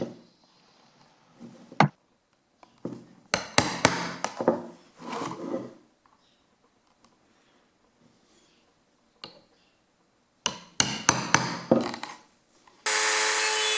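A fork-like tool marks stitch-hole spacing in leather, giving short bursts of scraping and tapping between quiet pauses, followed by a sudden steady noise at the end.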